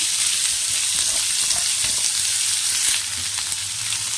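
Chopped onions sautéing in a pan give a steady close sizzle and frying hiss, with soft stirring scrapes running through it and no talking.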